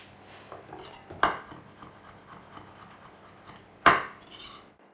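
Spoon scraping yogurt out of a container while Bircher muesli is made, soft rubbing scrapes broken by two sharp clinks of metal on the container, about a second and a half into the clip and again near four seconds.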